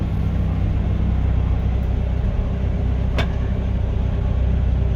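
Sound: CAT telehandler driving in reverse

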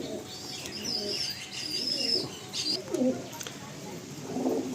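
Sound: pigeons

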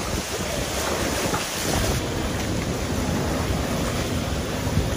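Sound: strong hurricane winds during Hurricane Sally

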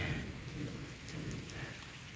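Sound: heavy rain falling

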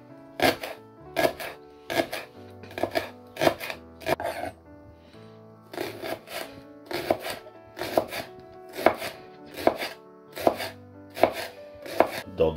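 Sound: chopping food into thin strips with a knife

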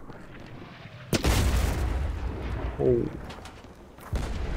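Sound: ship cannons firing in video game Blazing Sails

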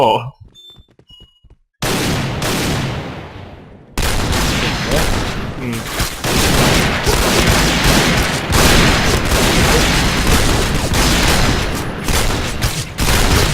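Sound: gunfire in the video game Point Blank

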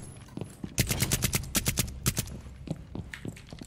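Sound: gunfire in a video game

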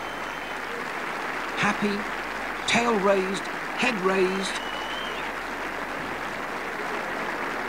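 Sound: crowd applauding the Crufts 1987 best in show winner

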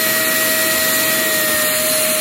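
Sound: air rushing out of deflating camping air mattress

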